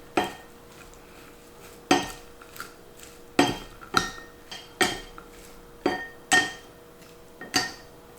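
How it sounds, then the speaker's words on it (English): Pineapple-shaped salad tossers toss a salad in a bowl, giving a series of sharp, close clinks and knocks at an uneven rhythm, alone in a quiet room. "Then I'm going to toss with my cute little tossers that my daughter got me from Hawaii."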